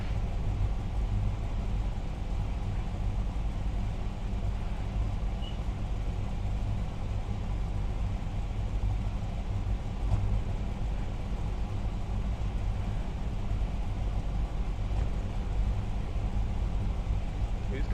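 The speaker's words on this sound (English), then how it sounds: "Whose car's running? That's annoying me." Low, steady idling rumble of a car engine running nearby, constant and unchanging throughout with no revving, heard in a V8 Supercars racing setting.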